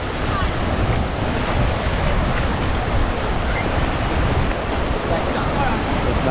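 Ocean surf at Myrtle Beach rolling in as a dense, continuous roar of breaking waves, loud and close, with heavy wind buffeting the microphone and no talk.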